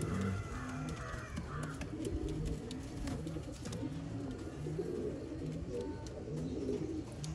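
Show pigeons coo in repeated low, throaty phrases throughout, fairly close and steady, with faint background traffic and no talking.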